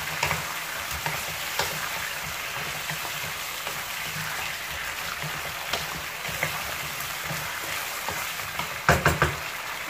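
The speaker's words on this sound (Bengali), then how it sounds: "মাংসটা 2-3 মিনিটের মতো একটু তেলে ভেজে নিব" Chicken meat fries in oil with a steady sizzle and crackle at moderate volume, with scattered sharper pops and clacks and a short burst of knocks near the end.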